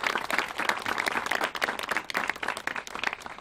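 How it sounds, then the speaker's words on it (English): Audience members at a news conference on senior LGBT housing in Suffolk County applaud Sage Long Island members with uneven, fairly close clapping from a modest crowd. "So please, a big round of applause for all of our Sage Long Island members."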